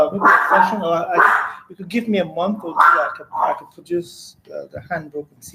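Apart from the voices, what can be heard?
pet dog barking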